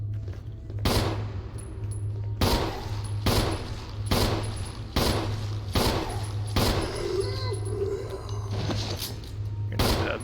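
Pistol fire in the Resident Evil video game, roughly seven or eight sharp shots spaced about a second apart over a low humming game soundtrack.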